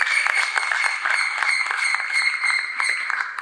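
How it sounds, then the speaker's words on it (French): Audience applause for a decorator at a French-language finale event, steady dense clapping that holds at an even level through the whole stretch. "Est-ce qu'on peut l'applaudir, s'il vous plaît?"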